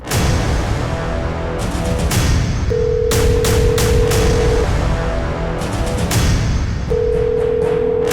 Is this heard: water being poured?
no